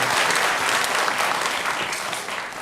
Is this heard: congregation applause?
yes